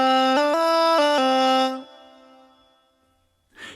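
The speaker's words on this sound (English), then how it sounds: "There's also an auto pitch feature that will correct the pitch subtly or in the more drastic robotic way" A sung voice through a Korg PA5X's robotic auto pitch effect holds a few stepped, tightly quantized notes with a buzzy synthetic timbre, then trails off into near silence.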